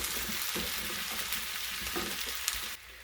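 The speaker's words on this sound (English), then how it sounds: "Give this a nice stir." Quartered, skin-on potato chunks coated in oil sizzle steadily in a hot pan while being stirred, with soft scraping knocks from the utensil over a continuous frying hiss.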